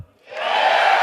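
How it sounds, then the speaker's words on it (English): An audience at a Destiny 2 gameplay premiere swells into a loud, close burst of cheering and whooping that rises quickly and holds steady. "You're gonna applause after every sentence"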